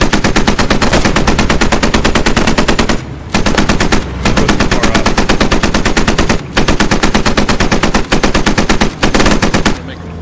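Loud, close M1919A6 machine gun fire in the game Post Scriptum, rattling out rapid rounds in long sustained bursts separated by a few brief pauses, with no talk over it.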